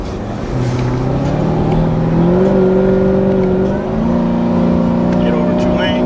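A cammed Chevrolet Camaro ZL1 making over 1000 wheel horsepower accelerates hard from inside the cabin, its engine note climbing through the revs, dropping briefly at a gear shift, then pulling up again loud and close.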